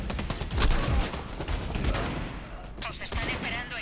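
Shotgun blasts and gunfire in the VR shooter Bravo Team, loud and dense, with repeated sharp shots layered over one another and faint talk underneath.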